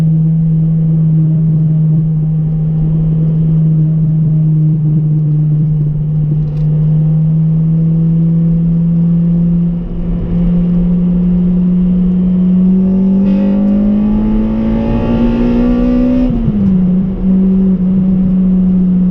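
A 2004 EP3 Honda Civic Type R engine drones steadily, then revs higher and climbs in pitch as VTEC engages around 5,500 rpm before dropping back, loud and close throughout.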